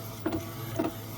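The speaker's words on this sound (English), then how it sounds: "we have our image printing out." A DTF printer prints an image onto film, giving a steady mechanical whir with two louder passes of the print head about half a second apart, close and with no talk.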